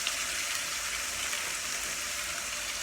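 Marinated ribeye steaks sizzle loudly in a pan on an AGA60 cooker, a dense, even hiss of frying fat that holds steady and close throughout.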